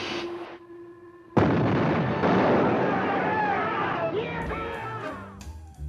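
A submarine torpedo launch in a war film: a sudden loud booming burst that swells into a long, sustained rushing roar, preceded by a brief voice.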